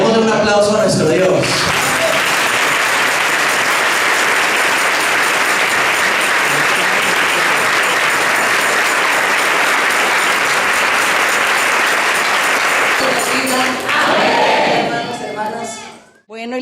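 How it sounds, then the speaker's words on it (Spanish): A church congregation claps and cheers together in a long, loud, dense burst of applause that holds steady for more than ten seconds, then fades, with voices mixed in. "Démosle un aplauso a nuestro Dios."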